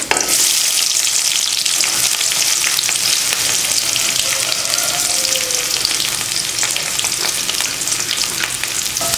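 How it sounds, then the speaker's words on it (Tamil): Onions and curry leaves sautéing in oil after fenugreek seeds for bottle gourd curry, a loud, dense, unbroken crackling sizzle with occasional stirring, close up and free of speech. "வெங்காயத்தை நல்ல ப்ரௌனாக வதக்கிக்கலாம்"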